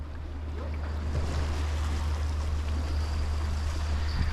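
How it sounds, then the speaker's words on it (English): Big rough ocean waves surging against a fishing spot, a continuous loud wash of surf with wind rumble, no voices. "it's the waves are too big, man"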